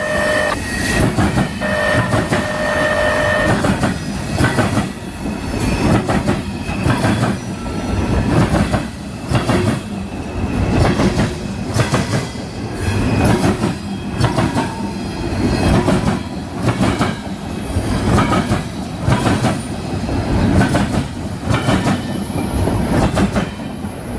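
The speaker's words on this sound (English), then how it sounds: "There it goes, CSX train Q441 with multiple blocks of Tropicana on it." A CSX freight train, Q441, carrying blocks of Tropicana cars rolls past close by. Loud rumble and rhythmic clickety-clack of wheels over rail joints continue steadily, with occasional squeals and no talking.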